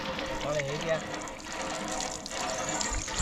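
Water gushes steadily from a hand pipe pump outdoors, close and continuous, while a voice talks over it.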